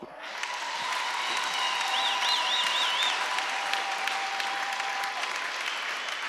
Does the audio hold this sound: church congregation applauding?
yes